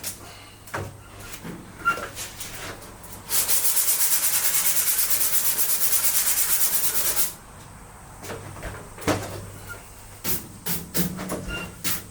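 Sheet-metal ute body scuffed with 80 grit sandpaper: rough, scratchy hand-sanding strokes come in short bursts, then a sustained, loud rasping run of rapid back-and-forth strokes for several seconds, followed by more scattered rubbing.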